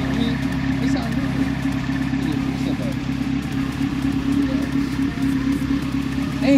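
A 1992 Honda Civic with a built B20V engine idles up close, a steady low droning rumble with a faint raspy edge, holding even throughout.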